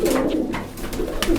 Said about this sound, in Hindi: ये सारे भाई मेल हैं कबूतर